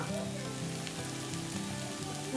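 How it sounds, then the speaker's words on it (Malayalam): Onions sautéing in a pan while sardine curry is cooked, a soft, steady sizzle and crackle that carries on quietly, with a faint tonal hum alongside. "സവോള നല്ലപോലെ ഒന്ന് വഴറ്റിയെടുക്കാം."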